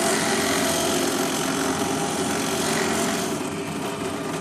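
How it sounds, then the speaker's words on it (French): A sanding machine working a wooden toy piece, a steady loud abrasive whir with constant rubbing friction, close up, easing slightly toward the end. "Et là, toute la pièce a été poncée."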